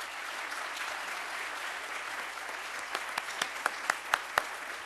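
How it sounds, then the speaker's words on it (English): Audience at a town candidate forum applauds in a steady spread of clapping that thins toward the end into a few distinct, sharper claps. "Let's give both guys a round of applause."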